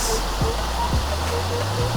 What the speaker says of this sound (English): There's a waterfall on my right,